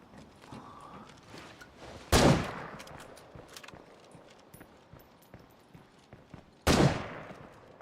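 Two sharp, loud gunshots ring out in State of Decay 2, spaced several seconds apart and each trailing off into a decaying echo, with quieter clatter and footstep-like ticks in between.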